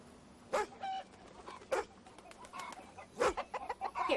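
Chickens cluck and squawk in short, scattered bursts at moderate distance on a farm, with a few sharper calls and a faint dog-like bark mixed in, no talking.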